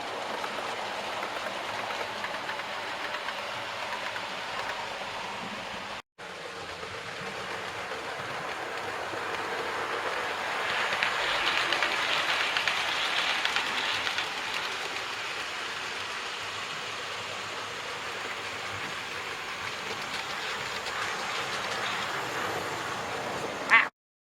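A GWR King Class locomotive on a loft model railway approaching, a steady low rolling rumble and hiss of wheels on track that slowly swells as it nears, with no talk.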